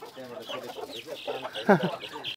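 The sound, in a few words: native chickens clucking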